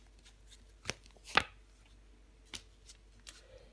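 Tarot cards are handled and laid face-down during a reading, giving a few sharp, brief clacks and slaps spaced out over quiet room tone, one louder snap near the middle.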